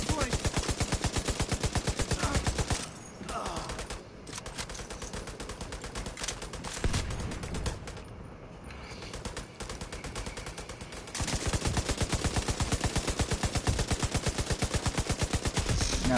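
Dense automatic gunfire from The Division 2 in the Tidal Basin stronghold, long rattling bursts almost nonstop with a brief lull midway, loud and close, with players shouting over it.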